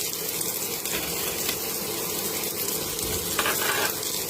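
Chopped medium onion sizzling in a hot pan, a steady broadband hiss that holds for the whole stretch with a few faint stirring scrapes, close up and with no talking.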